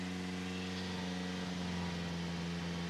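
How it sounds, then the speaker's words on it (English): A Subaru Sambar engine idles steadily, a little high, just after its carburetor was replaced, producing a constant low mechanical hum with a faint whirring hiss and no talking. "it might be idling a little high right now, but at least it's running"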